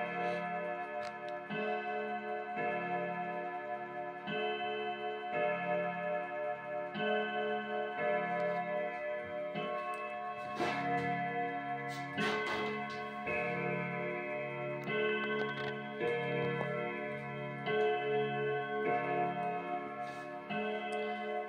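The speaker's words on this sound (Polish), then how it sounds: "Zegar, jak Państwo słyszą," An antique Hau Hamburg clock from about 1920 ticks in a steady, even rhythm, close and clear, with a ringing metallic resonance behind each beat and no voices.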